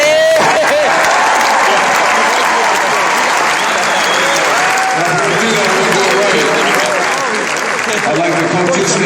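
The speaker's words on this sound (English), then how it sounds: "give you a round of applause" Loud, sustained applause and cheering from a large crowd at a 2012 Ohio State perfect-season celebration, continuous throughout, with voices mixed in.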